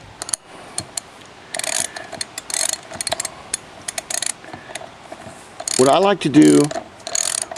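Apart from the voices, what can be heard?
ratchet with 22 mm socket tightening a wheel nut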